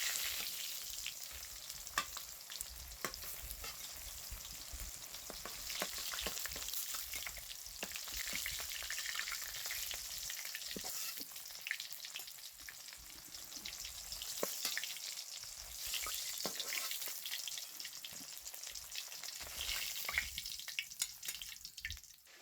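Tilapia fish fries in hot oil with a continuous close crackling sizzle and scattered sharp pops, no voices.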